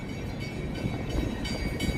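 A train rumbles steadily underneath a walkway near Union Station, Chicago, a continuous low, moderately loud roar with faint clatter and no talk.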